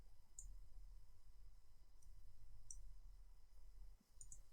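Faint, sparse computer mouse clicks, a few isolated taps spread a second or two apart over a low steady background hum, with no talking.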